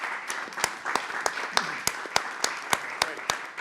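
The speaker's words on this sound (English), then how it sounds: "A big round of applause" Applause at a symposium celebrating Massey Grand Rounds, sparse and light, with a few sharp distinct claps standing out at a steady rhythm over a soft wash of clapping, moderately near.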